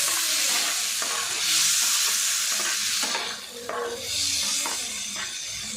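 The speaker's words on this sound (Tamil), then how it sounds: "ஃப்ரையாக வரும்போது இது கூட ரெண்டு தக்காளி பழம் கட் பண்ணி வச்சுருக்கோம்" Onions and tomatoes sizzle and hiss steadily in a hot pan, with occasional stirring scrapes, close up and without speech.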